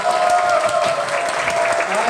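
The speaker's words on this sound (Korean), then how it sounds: "큰 박수 한번 부탁드리겠습니다" A large audience applauds after a lecture at a citizens' square autumn event, a loud continuous wash of clapping heard up close, with a voice speaking over it and a faint steady tone running underneath.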